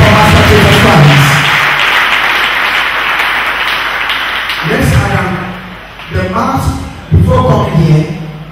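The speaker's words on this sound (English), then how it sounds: "Clap again for Master Jesus Christ." A church congregation at a Sunday deliverance service claps for Jesus Christ, with loud sustained applause for several seconds that fades and then breaks into shorter bursts near the end, mixed with voices.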